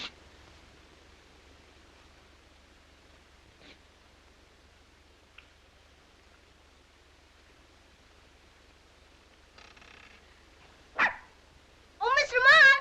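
Puppies in a 1937 film scene give a single sharp bark and then a quick burst of high, squeaky yips at the very end, after a long, nearly silent hiss with only tiny faint rustles.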